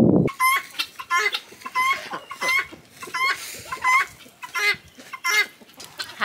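Chickens on a farm cluck repeatedly at feeding time in short, choppy bursts, several birds close by, with brief pauses between the rhythmic clucks.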